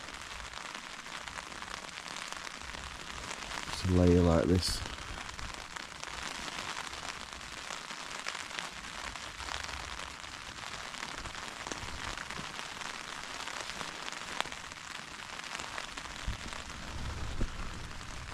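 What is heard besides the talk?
heavy rain falling on tent while wild camping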